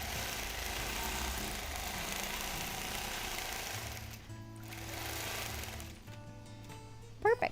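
A sewing machine hums steadily at close range during free-motion quilting on a stretchy topographical map quilt, its speed shifting and pausing briefly, with a few faint knocks at the end.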